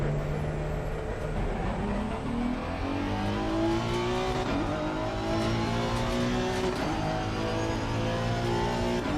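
A GT race car in Assetto Corsa Competizione laps the Kyalami circuit, its engine droning loud and steady as it climbs and drops through the gears, with revs rising and falling throughout.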